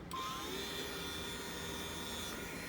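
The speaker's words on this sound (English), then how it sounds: "Let's test the vacuum now." A vacuum cleaner sweeper being tested after brush adjustment runs with a steady, continuous motor whine and airflow hiss, close and loud, no talking over it.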